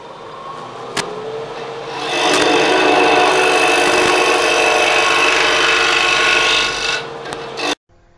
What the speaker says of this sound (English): This is really quick and easy with the efficiency of the small Hunter carbide cutter.